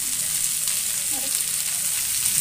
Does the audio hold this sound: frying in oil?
yes